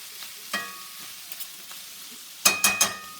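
Chicken, mushrooms and peppers fry in a pan over medium-low heat, with a soft steady sizzle broken by a few scraping stirs, including a quick cluster of three near the end.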